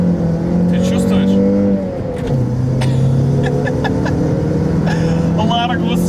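A Lada Largus accelerates from inside the cabin, engine tone climbing through gears with a short dip at a shift, while people talk over the steady road and engine drone.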